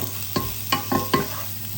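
Onion and garlic sautéing in a pan for chicken tinola, four crisp spatula scrapes close up in a quick irregular rhythm over a low sizzle, with no talking.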